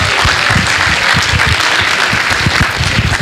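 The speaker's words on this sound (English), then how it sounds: "can we have a big round of applause for all the presenters?" A big round of applause for the presenters at a college society induction presentation session in 2019. Loud, dense clapping from a hall audience runs steadily throughout, with no talk over it.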